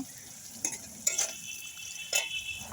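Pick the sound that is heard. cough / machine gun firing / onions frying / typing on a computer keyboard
onions frying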